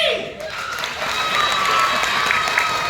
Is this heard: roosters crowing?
no